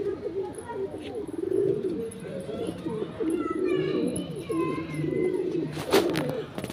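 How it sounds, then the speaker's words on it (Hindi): Pet pigeons and visiting outdoor pigeons coo in soft, repeated low warbles at moderate distance, with a few brighter chirps from other birds over steady background noise. "थोड़े गाइस कबूतर भी आ रहे हैं बाहर के। ये हमारे पालतू कबूतर है,"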